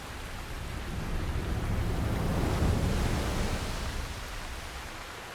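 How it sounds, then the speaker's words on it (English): Water spouting from the Divine Beast Vah Ruta in The Legend of Zelda: Breath of the Wild, a broad, steady rushing roar that swells toward the middle and eases slightly, continuous with no voices. "the water spouting from Ruta has slowed down"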